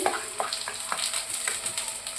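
Hilsa paturi frying in hot oil in a nonstick pan, a steady close sizzle with soft crackles and faint stirring pops throughout, no voices.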